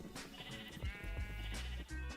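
Sheep in a video game bleat in quick succession, several wavering nasal calls overlapping at close range, fairly quiet with no speech.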